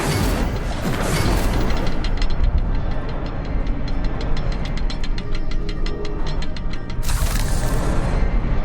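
An Incendio fire spell cast in Hogwarts Legacy bursts out as a loud whooshing blast, followed by a rapid run of crackling pulses and then a second strong burst near the end.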